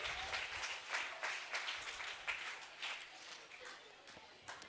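Applause from a school audience during a student social drama about an illiterate politician, brisk clapping that gradually thins and softens, heard somewhat distantly with faint background voices.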